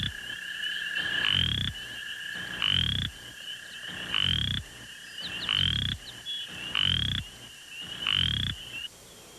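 A small adult coarse frog calls loudly and close by, repeating harsh croaking bursts roughly every second and a half, with steady high insect-like trilling continuing underneath.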